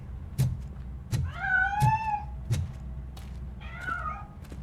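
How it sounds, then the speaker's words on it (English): A cat meows twice in Robocop Rogue City, two drawn-out calls set against a series of dull, evenly spaced thumps. "That cat must be hiding inside."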